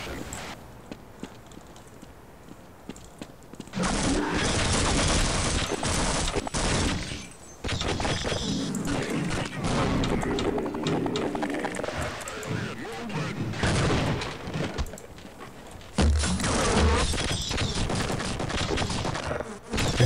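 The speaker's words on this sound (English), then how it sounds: "You're shooting at the other guy," Rapid gunfire in the Half-Life shooter game comes in long, dense bursts of crackling shots. A player talks and reacts over the shooting.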